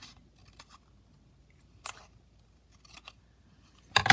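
Scissors snip through fabric while pockets are being cut out, giving a few short, crisp cutting bursts spaced across a quiet background, with a louder cluster of snips at the end.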